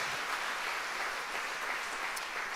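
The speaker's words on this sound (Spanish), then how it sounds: "Dele fuerte ese aplauso al Señor." A church congregation applauds in a steady, dense wash of clapping that holds at an even level throughout, with no talk over it.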